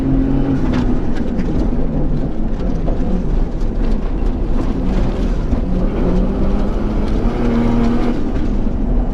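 An R4 rally Subaru engine pulls hard on a track, a loud, continuous close-up drone with shifting pitch and constant road and wind roar.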